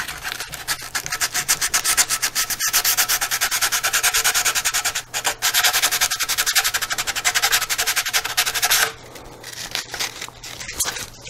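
Sandpaper roughing up the vertical stabilizer part of a SIG Kougar model aircraft before gluing, a steady close scratchy rubbing that runs for about nine seconds, breaks briefly midway, then drops to softer intermittent strokes.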